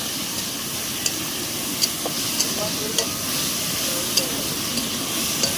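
Tomatoes sizzle and fry steadily in a pan for a Bengali fish curry (macher jhol), with soft intermittent scrapes and clinks of stirring over the continuous hiss.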